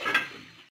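A metal lid set down on a cooking pot of simmering fish curry, one short clatter with a brief ringing tail, close and alone.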